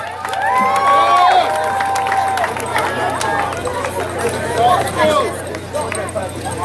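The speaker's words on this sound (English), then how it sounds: "Give the boys on top of the hill a round of applause." A crowd claps and cheers for a primary school at a 10K run and 5K walk awards ceremony, with a loud burst early that stays lively throughout, mixed with crowd chatter.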